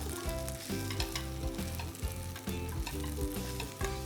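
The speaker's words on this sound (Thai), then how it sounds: "ผัดให้แห้งลงเล็กน้อยนะครับ" Shrimp pasta being stir-fried in a pan, a dense steady sizzle with rhythmic scraping and tossing of a spatula against the metal, close and uninterrupted by talk.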